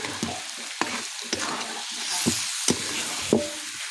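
Coriander-cumin powder and ghee being stirred into vegetables frying with fish fat, a soft continuous sizzle broken by regular spatula knocks and scrapes against the pan, close up.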